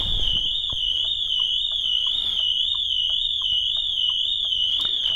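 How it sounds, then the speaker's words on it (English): A Pandora Smart Pro car alarm on an Alfa Romeo Quadrifoglio wails loudly with a continuous high-pitched warble, nonstop, with faint clicks underneath. "the alarm system is going to go off like so"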